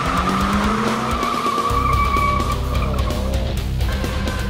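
A Toyota GT86 race version driven hard on track, engine roaring loud and close while tires squeal and skid in long wavering screeches, the revs dropping and climbing through a gear change.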